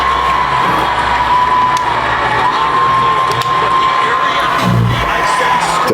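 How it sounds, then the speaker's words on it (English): A New York crowd cheers wildly, a loud, sustained roar of shouts and whoops with a brief swell near the end and faint voices mixed in. "Even the New York crowd is going nuts."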